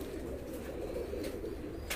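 Prized UAE pigeons cooing softly at a pigeon keeper's loft, a low throaty rolling coo that repeats, fairly faint and steady with light background hiss and no talk.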